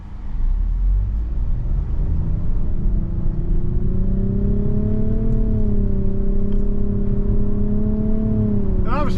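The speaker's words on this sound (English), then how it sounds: "This shifts pretty well for an Xtronic CVT, but it's still a bit slow on the upshift" A 2023 Nissan Rogue SV AWD with an Xtronic CVT in manual mode pulling away, a close engine drone under a humming cabin rumble with a tone that climbs slowly and levels off, no talk.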